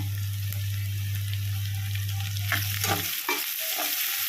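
Chopped capsicum sautés in a hot pan for chilli chicken, a steady close sizzle with a constant low hum, shifting near the end into scraping stir strokes.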